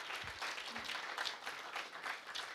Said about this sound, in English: Can we give that a round of applause, please?